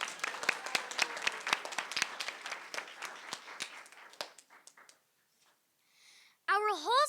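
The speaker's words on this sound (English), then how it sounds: "let's give our birthday stars a round of applause" A crowd applauds at a school board meeting, dense and lively at first, then thinning out and fading before a voice begins speaking.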